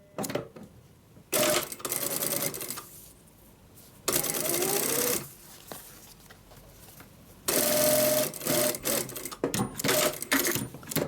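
A sewing machine fitted with a hidden zipper foot runs in three quick bursts of rapid, close mechanical stitching, separated by quiet pauses, with short clicks and whirs at the end.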